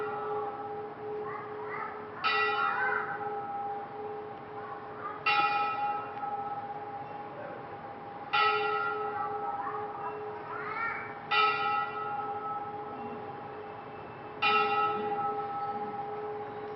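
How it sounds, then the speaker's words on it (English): A bell rings five times at even intervals of about three seconds, each strike ringing out with a bright, decaying tone over a quiet room with faint background chatter. "I'll just wait till the bell comes."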